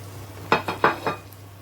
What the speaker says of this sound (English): You slowly mix it so it won't mash.